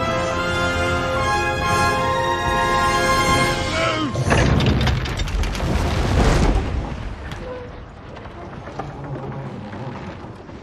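Soldiers firing a volley in Kingdom Come: Deliverance II, a loud burst of gunfire and booming reports crashing in together after a sustained tone, then decaying into scattered thuds and battle rumble.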